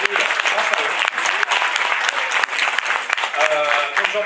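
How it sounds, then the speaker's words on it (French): Audience applause at a benefit evening of debate and performance for a strike fund, a dense sustained clapping that fills the whole stretch with steady intensity. "Donc on peut les applaudir."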